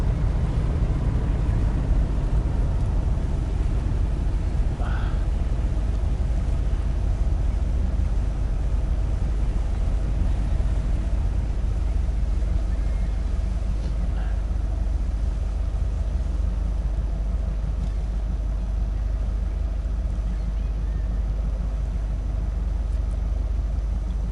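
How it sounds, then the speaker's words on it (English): A fishing boat engine in the game Fishing: North Atlantic, out tuna fishing, runs as a steady low rumbling drone with a faint hiss, unchanging throughout and without talk. "the sound of the engine on this boat"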